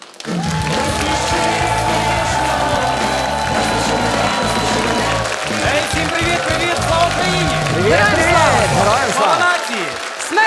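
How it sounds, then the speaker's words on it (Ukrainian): Studio audience at a comedy show, a stand-up contest stage, bursts into sustained loud applause with cheering and whoops, a dense steady clapping roar lasting throughout with a brief voice over it. "Ваші оплески."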